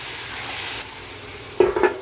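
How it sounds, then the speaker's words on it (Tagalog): Chicken pieces sizzle steadily in a hot pan for chicken tinola, then a couple of quick stirring scrapes and clatters near the end, close up with no talk. "Lagay na natin yung ating chicken. Sangkutin lang natin siya"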